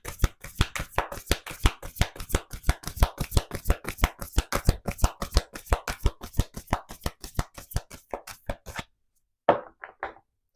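A tarot deck is shuffled by hand in a fast, steady run of crisp riffling slaps for about nine seconds, followed by a brief pause and a few final taps of the cards.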